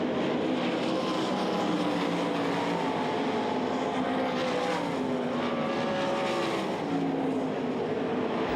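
Sprint race cars roar around the track at the Knoxville Nationals: a continuous loud engine drone with overlapping rising and falling pitches as several cars pass, with no talk.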